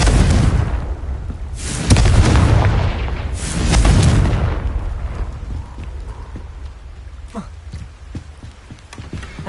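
Two heavy, booming blasts from the Confringo spell in a video game, each a broad rumbling burst that fades, followed by quieter scattered clicks and thuds.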